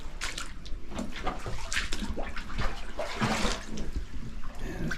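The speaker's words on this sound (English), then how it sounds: "I hear water pouring in back there." Water pours and splashes steadily inside a deep gold mine, a continuous hollow trickling and sloshing with brief louder gushes, heard alone at moderate volume.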